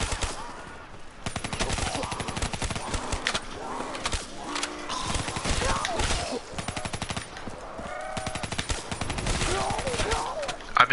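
Rapid automatic gunfire from the video game Black Ops 3 rattles in dense, continuous bursts with brief pauses, fairly close and loud throughout.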